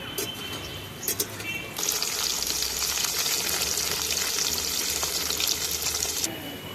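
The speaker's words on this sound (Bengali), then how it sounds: "এই আলুগুলোকে ভেজে নিচ্ছি গরম তেলের মধ্যে দিয়ে" Potato pieces fry in hot oil for an outdoor rooftop meal. A loud, dense hiss swells in after a few faint knocks, holds steady for several seconds, then drops away abruptly.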